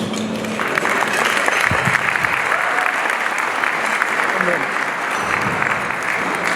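An audience at the DuSable Heritage Association gala gives a steady, full round of applause for an attorney general. The clapping is dense and fairly close, with some voices mixed in.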